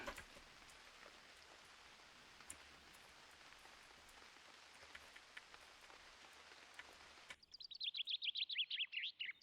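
Steady rain hisses in the UnReal World game for about seven seconds, then cuts off abruptly and a bird's repeated, quick chirping trill takes over.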